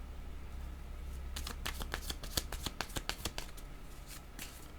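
Tarot cards being shuffled by hand, a quick run of crisp riffling slaps starting after a quiet moment and continuing close and fairly soft, with no voice.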